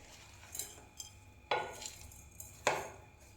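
A spoon clinks and scrapes against a bowl while stirring an onion vadagam mixture with rock salt, giving a few sharp close taps and soft gritty rubbing, fairly quiet, with no talk.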